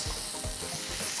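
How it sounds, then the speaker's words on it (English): Seasoned ground beef sizzles in a hot pan for taco filling, a close, steady hiss broken by a few soft stirring thumps, with no voices. "No sizzle, no good."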